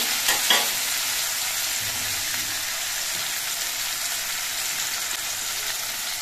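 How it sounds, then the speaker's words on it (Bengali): Mixed vegetables stir-frying in a kadai make a loud, continuous close sizzle with steady crackle and no talking. "সবজিগুলো কড়াইয়ের মধ্যে বেশ কিছুক্ষণ নাড়াচাড়া করে নিয়ে সবজিগুলো ভেজে নিয়েছি"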